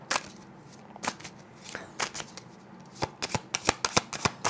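A deck of cards is shuffled close by, with scattered riffles first and then a quick burst of rapid flicks near the end, and no one speaks.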